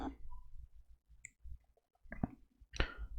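Computer mouse button clicking while setting up an Event Hub namespace, a few small sharp clicks with quiet gaps and faint handling noises between them.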